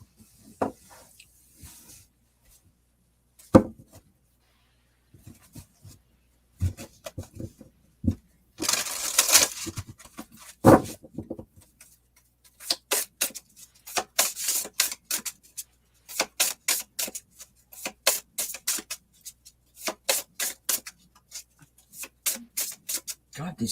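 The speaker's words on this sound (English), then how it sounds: "God, these cards are really loud." Tarot cards are shuffled, with scattered riffling and rubbing bursts across the stretch that grow into rapid repeated flutters near the end, interleaved with talking voices.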